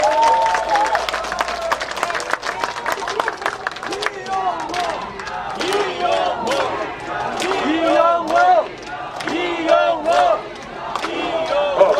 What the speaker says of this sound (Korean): 열렬한 박수로 환영해 주시면 고맙겠습니다